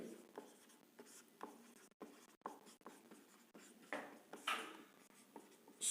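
A pen or marker makes short, scratchy strokes on a board or on paper during a class 6 maths lesson on data handling. The strokes are faint and intermittent, with brief pauses between bursts.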